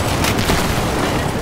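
A grenade blast in the video game Battlefield 4 lands as a loud, close, broadband boom that fills a short burst of noise, with no voices.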